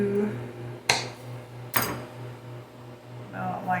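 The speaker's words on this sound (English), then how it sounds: "So I'm going to have to just cut these down" Asparagus stems being cut down with a knife, two sharp crisp chops about a second apart, faint and close over a low background hum.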